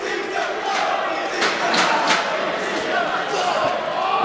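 A wrestling crowd roars in an arena after a pile driver through a table, a loud sustained wall of cheering and shouting with sharp impacts and claps cutting through.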